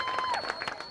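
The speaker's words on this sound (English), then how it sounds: "Cheering section." A cheering section at a high school football game applauding and shouting, a dense wash of claps and crowd noise heard from a distance for about a second.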